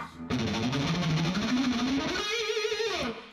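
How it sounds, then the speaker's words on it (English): A fast-picked heavy metal blues guitar line plays in a rapid tremolo-like run that rises, peaks, then jumps to a higher sustained bend before cutting off, loud and distorted with no voice over it. "the most interesting guitar thing in the song is the fast picking part that sounds something like this"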